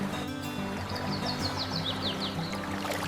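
Water flows in a steady stream at a campsite on a peaceful morning, a continuous rushing wash with bird chirps trilling faintly above it.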